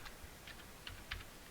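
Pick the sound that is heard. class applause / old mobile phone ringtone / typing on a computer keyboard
typing on a computer keyboard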